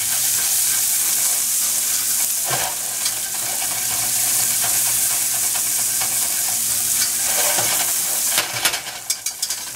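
Onions frying with a little salt in a pan, sizzling steadily while a utensil scrapes and stirs the bottom, with a few louder scrapes near the end.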